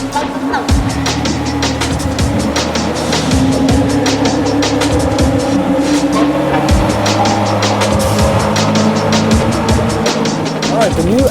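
A 2017 Audi R8 supercar driving, its engine droning steadily and loud throughout with tire and road noise, while a voice talks over it.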